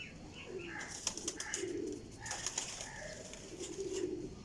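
Golden Teddy high flyer pigeons give rolling, low coos at close range, repeated in overlapping phrases, with occasional wing rustles and small chirps in the loft.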